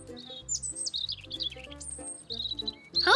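Cartoon birds chirp and tweet high in the sky in an animated scene, a steady run of bright, close calls over soft background music, with no talk.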